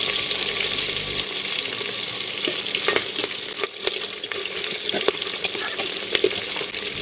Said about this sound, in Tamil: அடுத்து வெங்காயம் வெள்ளைப்பூடு போட்டு நல்லா வதக்கிக்கலாம். இப்போ கருவேப்பிலை போட்டு தாளிச்சிடலாம்.